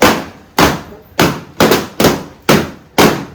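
Seven sharp firecracker bursts go off near a residential building during Diwali and birthday celebrations, each a loud close bang with a fading tail, spaced roughly half a second apart in an irregular rhythm.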